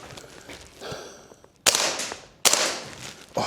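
A WellPro PPK-20 gas blowback airsoft rifle fires two sharp, loud single shots, each a hard crack followed by a hissing decay, after a quieter stretch of faint rustling and movement.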